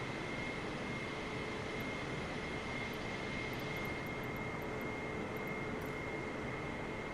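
A small airplane taxiing toward runway 3 at Lake Charles, Louisiana, with a steady, loud engine drone and propeller hum that hold evenly throughout, with no voices heard.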